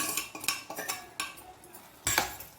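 A metal spoon clinks and scrapes against a pot while soft boiled bottle gourd is mixed with salt, giving a handful of close, uneven taps with short gaps between them.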